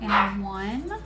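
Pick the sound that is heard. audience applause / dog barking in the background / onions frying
dog barking in the background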